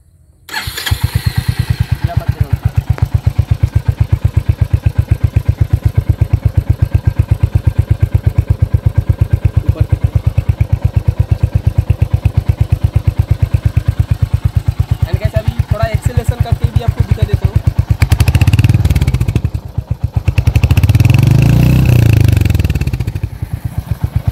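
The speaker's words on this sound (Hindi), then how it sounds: "बाइक को स्टार्ट कर देता हूँ" A Royal Enfield Hunter 350 motorcycle engine starts up close by and settles into a loud, steady thumping idle, then revs up in a few swelling bursts near the end.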